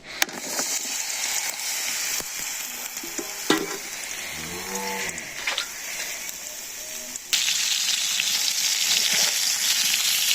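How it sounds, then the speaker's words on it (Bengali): Eggplant frying in hot mustard oil in a wok, a loud continuous close sizzle with scraping stirs and clanks, the hiss swelling louder midway as more pieces hit the oil. "কড়াইটা গরম হয়ে গেছে আমি এখন বেগুনটা দিয়ে দিই যে মাখিয়ে রাখছিলাম সেই বেগুনটা দিয়ে দিই"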